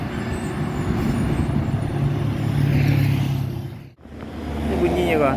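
A heavily loaded Mercedes-Benz truck engine drones loud and near in a steady low rumble that dips briefly near the end and then returns, with a voice talking over it.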